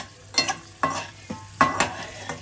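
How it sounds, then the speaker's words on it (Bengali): Raw peanuts fry in hot mustard oil in a pan, with a series of sharp scraping stirs at irregular intervals over a steady close sizzle, no voices. "আমি কিছু কাঁচা বাদাম ভেজে নিচ্ছি।"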